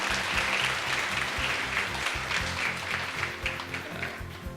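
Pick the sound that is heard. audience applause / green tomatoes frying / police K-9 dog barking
audience applause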